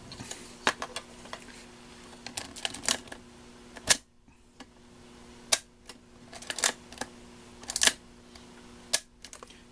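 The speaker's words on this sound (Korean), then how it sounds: "셔터가 제대로 정상적으로 움직이는지 그 정도만 한번 확인 한번 해보려고 합니다" Film camera shutter fired repeatedly during a self-repair test, giving sharp, close mechanical clicks and snaps spaced irregularly over a faint steady hum, with no voices.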